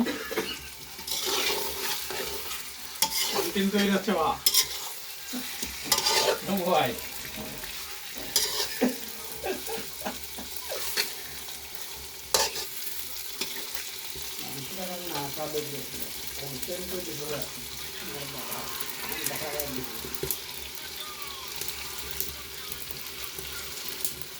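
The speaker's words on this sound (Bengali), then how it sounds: "তখন আমরা আলু আর মুরগিটা দিয়ে দিছি, কিছু সময় নেড়ে চেড়ে মিক্স করব" Chicken and potatoes are stirred as they fry in a pot over a wood-fired clay stove for chicken curry, with steady sizzling and repeated scraping and clinking of the spoon, and a voice speaking at times.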